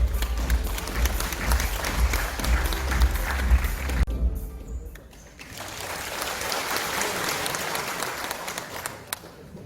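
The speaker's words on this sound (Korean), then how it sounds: "큰 박수 부탁드립니다." An audience at a launch ceremony for the 2022 Yeongju World Punggi Ginseng Expo breaks into loud, sustained applause before the mayor's welcome speech, with heavy low rumble, a brief dip midway, then clapping swells again.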